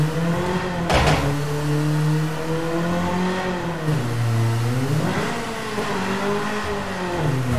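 A car engine in the Apex Point racing game cranks with a sharp burst near the start, then revs with rising and falling pitch, loud and steady throughout with no talking.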